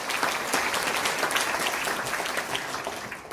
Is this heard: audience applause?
yes